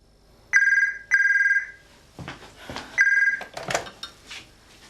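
An outgoing telephone call rings on a 1992 landline, two electronic ring bursts followed by a third, with brief rustling and soft handset noise between them.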